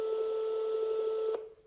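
A steady electronic telephone ring tone on a call, a single sustained buzzing tone that cuts off abruptly near the end, fairly clear and close.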